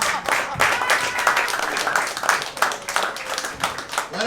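A comedy club audience applauds a stand-up comedian, with dense, sustained clapping filling the room and voices mixed into the crowd noise.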